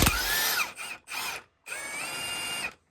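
An impact wrench works a front differential bolt on a 2012-or-later Kawasaki Brute Force 750 ATV, heard as three close, loud bursts of whirring with short pauses between.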